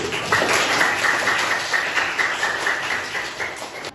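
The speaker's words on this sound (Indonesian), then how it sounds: "Tepuk tangan dulu." A classroom of students clapping together, a close, fairly loud patter of many hands with a loose rhythm that carries on steadily for a few seconds.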